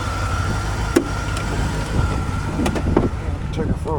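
A 1995 Corvette C4 with an LT1 V8 engine drives along, its steady engine drone and road noise running continuously, with a few sharp clicks over the top.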